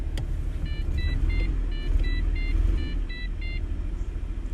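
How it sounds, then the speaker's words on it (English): A Holden VT Commodore engine runs with a loud, steady low rumble that swells slightly partway through, while a series of short electronic beeps chimes repeatedly over it. "Yeah, rev it up a bit more."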